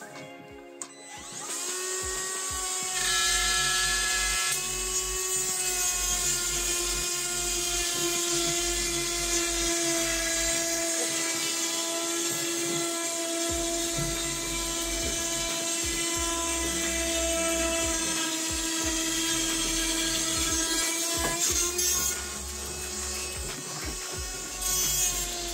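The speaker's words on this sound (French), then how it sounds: "c'est pour découper tous les contours de placo" Small power tool whining steadily at high pitch as it cuts plasterboard contours around a window, running continuously with slight pitch shifts and no talk.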